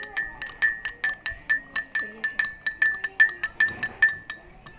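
A spoon stirs salt into water in a glass, striking the sides in a quick steady run of bright ringing clinks, close and loud, with a voice talking briefly underneath.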